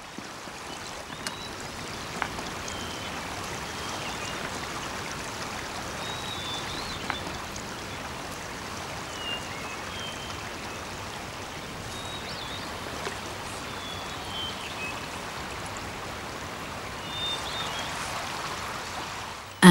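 Bavaria's Isar, an alpine river, rushes and burbles in a steady broadband wash for about twenty seconds, close and even, with no voices.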